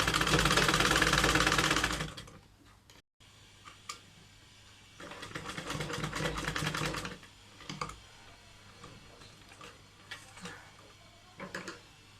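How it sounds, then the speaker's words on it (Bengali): A sewing machine stitches the side seam of a salwar in two bursts of rapid, even mechanical clatter separated by a short pause, followed by scattered clicks and brief stitching runs. "আমি এভাবে করে এখানে সেলাই দিয়ে নিচ্ছি সম্পূর্ণ সাইডে এভাবে করে আমাদেরকে সেলাই করে নিতে হবে"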